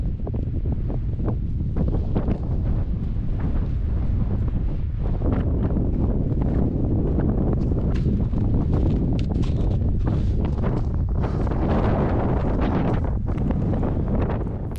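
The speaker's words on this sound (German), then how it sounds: "Auch der Wind frischt auf" Strong gusty mountain wind at about 2,100 m in freezing cold buffets the microphone with a constant low roar and sharp rumbling bursts, loud and unbroken throughout.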